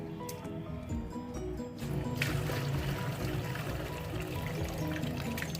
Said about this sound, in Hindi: और इस यखनी को हम छान लेंगे।